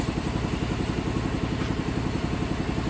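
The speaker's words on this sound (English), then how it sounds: "Sawzall time" A Sawzall reciprocating saw cuts through the steel frame of a 1961 Cadillac at the front bumper crossmember, a fast, dense, rattling buzz held steady and loud with no pauses and no talking.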